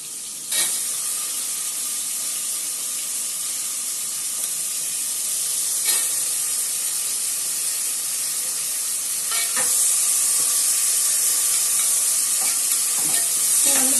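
Green peas and carrots sauté with slit green chillies in a pan for vegetable biryani, giving a steady close sizzle broken by a few sharp stirring scrapes.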